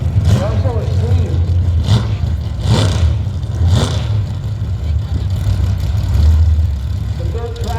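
A dirt track car races a dirt truck in a drag race, engines revving and roaring in repeated bursts at a distance, with crowd noise and voices talking over them.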